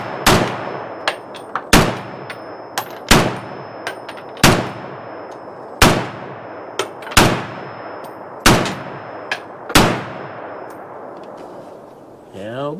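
Eight evenly spaced, sharp rifle shots from a DSA SA58 "Cuban" model FAL fired at an outdoor test, each a loud crack with a ringing metallic decay, plus a brief clatter at the end.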